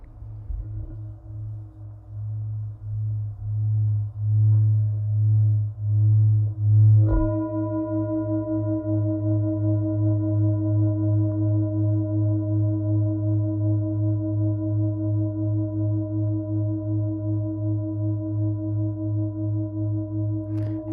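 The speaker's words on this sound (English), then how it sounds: "And then when you play it to sustain it." A hand-carved Tibetan singing bowl is rubbed to keep its tone going, giving a low pulsing hum that swells into a steady ringing drone with bright, layered overtones, sustained and wavering gently for about twenty seconds.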